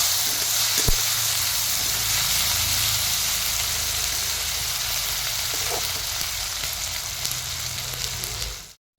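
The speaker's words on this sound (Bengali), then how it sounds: "শুটকি মাছগুলোকে এপিট ওপিট করে ভেজে নিব।" Dried shutki fish coated in turmeric frying in hot oil, a steady loud sizzle and hiss that holds evenly, with a couple of faint knocks, before cutting off abruptly at the end.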